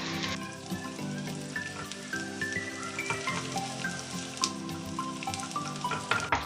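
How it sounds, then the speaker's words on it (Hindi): Dry fruits fry slowly in a pan over a low flame for sheer khurma, with a steady, close sizzle and light crackle throughout and faint stirring taps. "पहले हम ये ड्राई फ्रूट्स फ्राई करेंगे, उसके बाद सेवइयाँ डालेंगे।"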